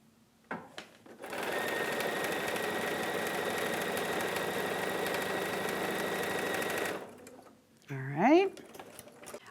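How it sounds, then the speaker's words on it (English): A sewing machine stitches quilt fabric in one long, steady mechanical whir lasting several seconds, then stops, with a brief voice heard afterward. "we're going to take this back to the sewing machine"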